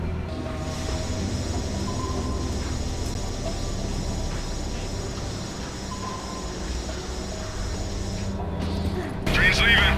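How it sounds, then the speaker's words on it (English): Military transport train pulling away in the Tomb Raider: Legend video game, a continuous heavy rumbling clatter of rail cars with mechanical noise, speech over it, and a sharp burst near the end. "Train's leaving."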